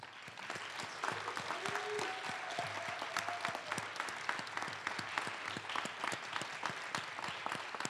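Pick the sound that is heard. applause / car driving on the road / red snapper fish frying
applause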